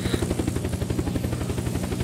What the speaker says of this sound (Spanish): yo voy en un helicóptero